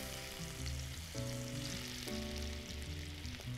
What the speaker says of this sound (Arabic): انا مسخنة الوك كويس قوي وهي كده زمانها سخنت مظبوط، فاحنا هنحط معلقة زيت واحدة عشان بس الزبدة ما تتحرقش. هحط الزبدة